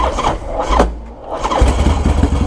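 A custom-built 2016 motorcycle engine cranks and catches with the choke pulled, a loud close low rumble that falters briefly and then settles into a rough, steady running churn.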